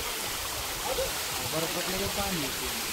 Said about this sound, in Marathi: वरून छोटासा धबधबा पण आहे